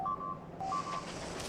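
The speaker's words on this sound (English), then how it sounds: "the notification sound is a little annoying" Factorio: Space Age video game notification chime, a short electronic pattern of steady tones that plays twice in quick succession over faint game background noise.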